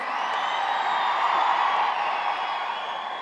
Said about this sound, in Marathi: प्रचंड उत्साहाने लोक टाळ्या वाजवत आहेत